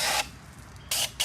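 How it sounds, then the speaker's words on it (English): Water sprays in short hissing bursts while parts of a Shark vacuum cleaner are washed, three close spurts separated by quiet gaps. "it's spraying everywhere."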